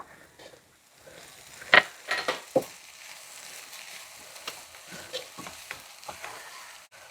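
Bitter gourd tossed with grated coconut and cumin in a pan, with a few sharp scraping strokes near the start and then a soft, low sizzle under intermittent clinks of the spoon, all fairly quiet.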